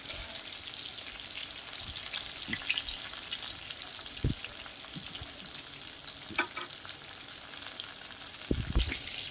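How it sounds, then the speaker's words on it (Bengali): Pieces of pointed gourd (potol) frying in oil give a steady, close crackling sizzle throughout, broken by a few brief clinks of a utensil against the pan, with no voices. "পটলটা লাল লাল করে ভাজা হয়ে গেছে"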